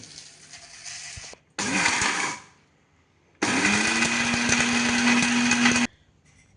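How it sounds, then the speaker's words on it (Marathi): A kitchen mixer grinder grinds roasted dabeli masala spices into powder in loud, whirring bursts: one short run, then a longer one that rises into a steady high whine before cutting out. "आता आपण मिक्सरच्या भांड्यात घालून बारीक पावडर करून घेऊया"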